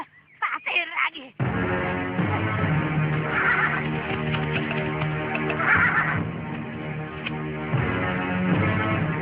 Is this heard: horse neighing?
yes